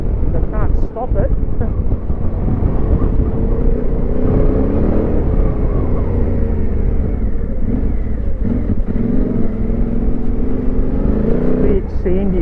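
A vehicle in off-road mode climbs a sandy creek bed in the Flinders, its engine a loud, steady, close rumble that runs unbroken from start to finish.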